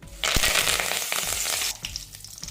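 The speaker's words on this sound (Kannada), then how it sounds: "ಇವಾಗ ಫೈನಲ್ ಆಗಿ ಕರಿಬೇವಿನ ಸೊಪ್ಪನ್ನ ಫ್ರೈ ಮಾಡ್ಕೊಳ್ಳೋಣ" Curry leaves frying in hot oil for avalakki mixture, a loud burst of crackling sizzle that erupts abruptly, holds for over a second, then drops to softer popping.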